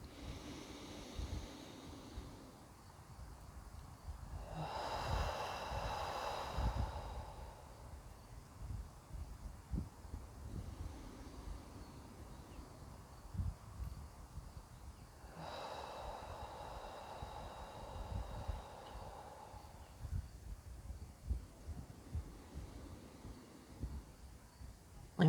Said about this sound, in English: Let's take three nice deep breaths together.